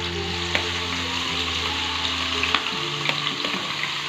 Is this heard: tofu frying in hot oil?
yes